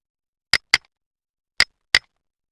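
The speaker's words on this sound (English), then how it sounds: "the asynchronous ticking noise which two high-energy igniters make when they're feeding sparks to two serviceable igniter plugs" High-energy igniters of a gas turbine engine firing sparks into two igniter plugs, making four sharp, isolated ticks in an uneven rhythm, crisp and close with silence between them.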